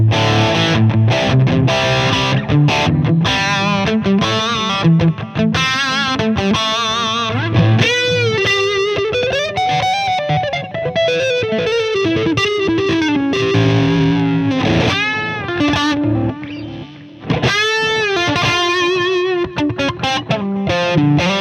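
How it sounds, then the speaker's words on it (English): Heavily distorted electric guitar from a Strat played through an Engl Retro Tube 100 valve amp with the gain at full and the boost engaged, loud and continuous riffing with sustained chords and bends, no talking. "Let's quickly just do gain on full and boost with the Strat."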